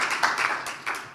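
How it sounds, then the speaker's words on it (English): Brief burst of audience clapping at a conference presentation, several close, sharp hand claps over about a second before fading. "Then another round of applause and greetings from Reading."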